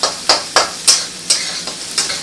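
Carrots frying with garlic and green chillies in a hot pan, a close bright sizzle broken by six or seven evenly spaced stirring strokes; no talking.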